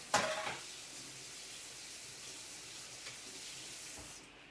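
A spice spoon rinsed under a running kitchen tap, opening with a short clatter, then a steady soft hiss of flowing water that cuts off near the end, no speech.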